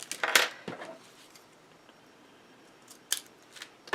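Scissors snip paper trim for a handmade mini album, a few crisp close cuts near the start and again toward the end, separated by a quiet pause.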